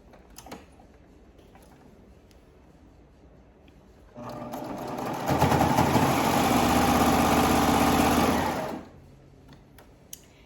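A serger sewing machine stitches a seam, running loud and steady for about five seconds after a quiet pause, then stopping abruptly.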